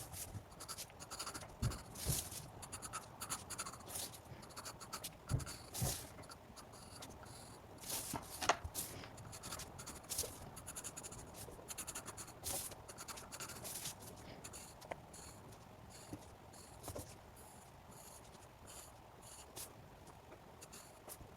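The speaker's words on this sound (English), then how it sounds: "How to draw the lines within the box." Pencil scratching steadily across paper while drawing and shading lines on contour forms, a faint continuous rasp with short stroke bursts and small taps over about twenty seconds, quiet and close.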